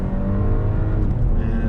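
A Porsche Cayenne engine revs up during a downshift, a strong continuous drone close by that shifts pitch near the end.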